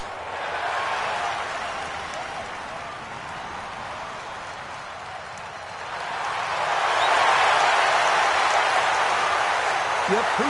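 Golf gallery at the TPC Scottsdale 16th hole in a PGA Tour video game, a steady wash of crowd applause and cheering that swells louder in the second half, with a commentator talking over it.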